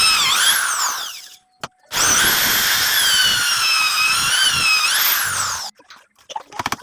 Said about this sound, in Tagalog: centeran ko lang yan ng ating uh, drill